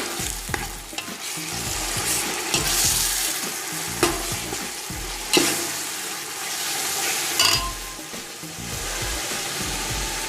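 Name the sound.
stirring coriander powder into frying masala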